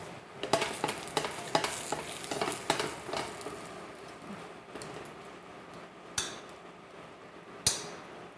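Peppers frying in a pan for salsa verde, a steady close sizzle broken by a run of sharp rhythmic stirring taps in the first half, then quieter frying with a couple of isolated knocks.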